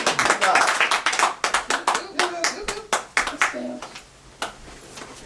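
A church congregation at an Easter service gives a pastor sparse, uneven applause. Individual hand claps ring out close and distinct, then thin out and fade, with a voice speaking briefly over them.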